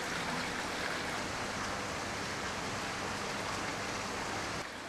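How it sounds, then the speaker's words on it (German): Filtered water from an aquaponics biofilter's collection tank runs back into fish-rearing tanks with a steady, soft, hissing rush that continues for the whole stretch. "Das durch Nitrifikation aufbereitete Wasser aus dem Auffangbehälter des biologischen Filters fließt nun einerseits zurück in die"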